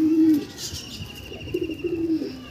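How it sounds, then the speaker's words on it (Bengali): Andhra pigeons of the closed-tail type coo in a low, rolling voice, with a few repeated throaty calls close by and no talking. "ওই একই বন্ধ দুমের পায়রা"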